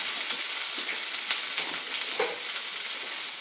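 Rice tipped into a hot pan already frying garlic gives a steady, close sizzle with brief scraping and stirring clicks over it and no voices.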